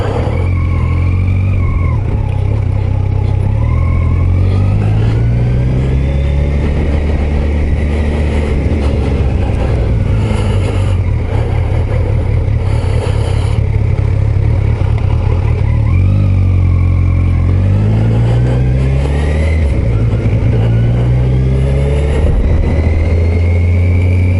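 A 2021 Kawasaki Versys 1000 SE Grand Tourer motorcycle in sport mode, its engine droning steadily on the road and rising in pitch through several accelerations, with wind rush throughout and no talk.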